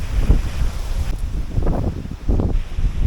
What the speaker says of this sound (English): it's gusty out